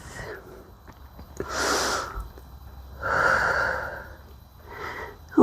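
Slow, deep breaths taken while holding a side angle pose in a yoga-style calisthenics flow: two or three long, airy inhales and exhales, close and fairly clear, with quiet pauses between.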